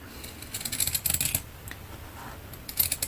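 Scissors snip away excess fabric on a welder's cap, a run of quick crisp cuts, then a short pause before a couple more close, sharp snips.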